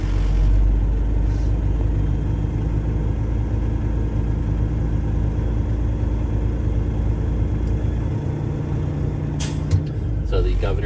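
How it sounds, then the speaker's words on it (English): A Class B truck's diesel engine idles and revs up toward the air governor kickoff, a steady loud low rumble with a brief hiss of air late on. "I'm just gonna rev it up just a little bit to get to the kickoff just a little bit quicker"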